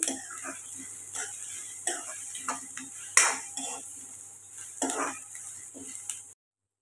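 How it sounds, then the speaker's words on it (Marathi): Onion frying in oil in a pan crackles with a soft sizzle, while a spoon scrapes and clinks against the metal in irregular stirring strokes. "हा कांदा फ्राय करून घ्यायचा चांगला तेलामध्ये, आणि त्याचा कच्चेपणा घालवायचा आहे।"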